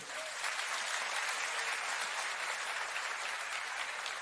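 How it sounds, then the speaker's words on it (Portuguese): Church congregation applauding during a sermon, a thick, even roar of many hands clapping that stays steady and loud from start to finish with no talk over it. "Dá um aplauso a Ele."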